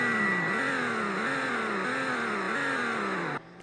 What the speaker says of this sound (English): Hear the revs.